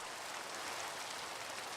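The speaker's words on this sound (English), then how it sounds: "We have rain." Rain in a C++ Minecraft clone game, a soft continuous hiss of falling drops, even and faint with no other sounds.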